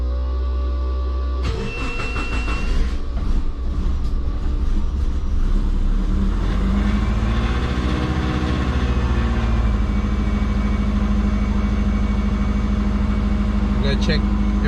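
A car fitted with stock injectors cranks, catches and settles into a loud, steady idle close by, a continuous rumble with a slight rise partway through.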